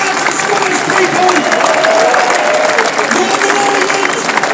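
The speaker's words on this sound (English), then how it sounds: "Let's give them a round of applause." A large crowd at an outdoor London rally applauds and cheers, a dense continuous wash of clapping and voices that stays loud and steady throughout.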